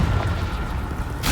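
Confringo spell blast in the video game Hogwarts Legacy: a low, rumbling explosive boom that sustains, followed by a sharp burst near the end.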